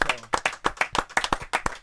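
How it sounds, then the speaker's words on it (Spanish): A small group in a talk-show studio claps after a segment: a short run of sharp, distinct hand claps, close and fairly loud, with only a few people joining in. "Súper aplauso."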